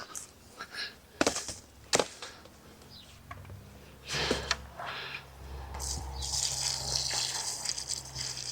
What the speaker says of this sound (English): I'll give them a good water.